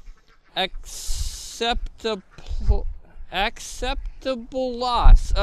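A duck quacks repeatedly as it is chased, its calls mixed in with loud, energetic talking close by.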